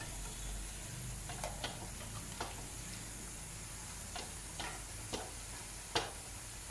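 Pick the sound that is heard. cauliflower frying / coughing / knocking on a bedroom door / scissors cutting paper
cauliflower frying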